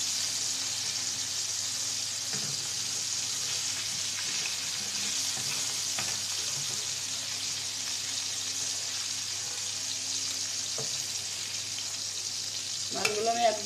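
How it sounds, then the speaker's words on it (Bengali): Hilsa fish pieces frying lightly in oil, an even, continuous hiss and crackle held close throughout, with a small clatter near the end and no talking. "মাছগুলো আমি একদম হালকা ভাজা দিলাম।"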